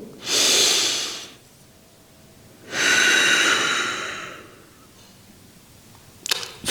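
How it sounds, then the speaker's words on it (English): Two long, deep breaths taken during a stretching exercise, each a loud airy whoosh lasting over a second, close to the ear, with a faint click near the end. "I like the breathing because sometimes it allows me on my exhale to get a little deeper each time."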